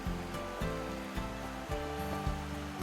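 A river in the Peak District near Froggatt and Curbar runs along an open riverbank, giving a steady, broad rushing wash with no pauses.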